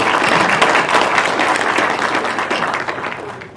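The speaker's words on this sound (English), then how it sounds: "hey, if you want to clap, go ahead." Audience applause at a Mountain-Desert Economic Partnership panel discussion, a dense, steady wash of clapping from a room full of people that fades slightly toward the end.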